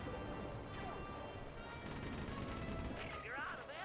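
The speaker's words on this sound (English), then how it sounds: "from there you can work on them with the machine gun" Machine gun fire in the stealth video game Sly 3: Honor Among Thieves, a fast rattling burst in the middle mixed with game effects and crashes, under a busy soundtrack.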